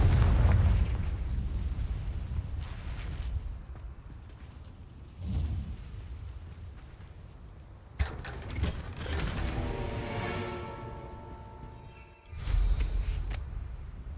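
Blasting-spell explosions in the fantasy video game Hogwarts Legacy: loud booming bursts with crackling debris, several blasts in sequence separated by rumbling lulls, no talking.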